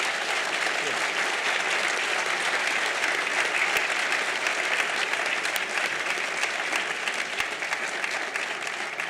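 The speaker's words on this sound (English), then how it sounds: "let's give Roger a great round of applause" Sustained audience applause for lecturer Roger Thurow at the D.W. Brooks Lecture, a dense, even roar of many hands clapping in a large hall, continuous and full for about nine seconds.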